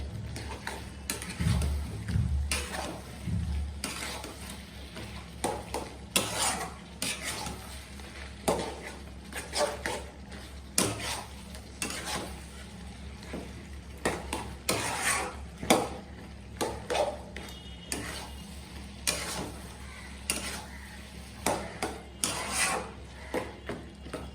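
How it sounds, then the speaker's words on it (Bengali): Fish-head muri ghonto with potatoes stirred continuously in an open pot, heard as repeated close scraping and rubbing strokes in a steady rhythm over a low background hum. "এখন হচ্ছে অনবর্ত নাড়তে হবে ঢাকনা দেয়া যাবে না"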